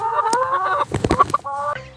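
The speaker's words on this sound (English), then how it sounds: "And on that farm he had a hen, E-I-E-I-O. With a cluck cluck here and a cluck cluck there." A farm hen clucks and squawks close by, a quick burst of sharp clucking calls between longer drawn-out vocal notes, loud and clear.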